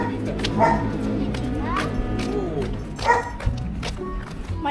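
A dog barks and yips in short bursts outdoors, recorded on a DJI Action 4 camera, with people talking nearby over a noisy background.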